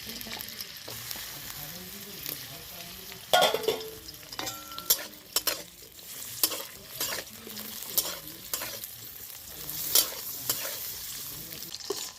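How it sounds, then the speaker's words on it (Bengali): Bitter gourd pieces fry in hot oil with a continuous close sizzle, broken up by frequent stirring scrapes and sharp metallic clinks of a spatula against the pan. "এবার উচ্ছেগুলো ভেজে নেবো"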